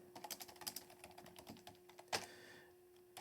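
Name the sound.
computer keyboard typing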